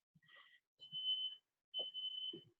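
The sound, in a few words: smoke alarm going off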